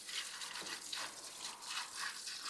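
A freshly surface-ground part is rinsed off under running water, a soft splashing wash with a few fluctuating surges, no talking.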